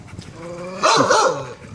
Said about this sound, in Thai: โดนเห่าอยู่นะ